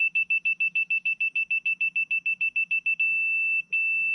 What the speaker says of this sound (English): if I set it here, and I get that solid beep that we always look for